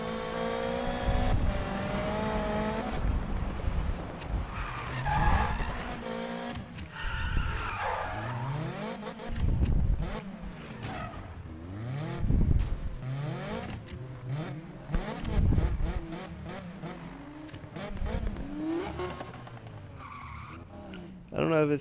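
Engine and tire skids from a GTI sleeper car tuned to 1200 horsepower in the Need for Speed racing game, with screeching slides and revving bursts running continuously alongside game music and a voice heard throughout.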